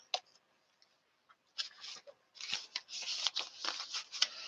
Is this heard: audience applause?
no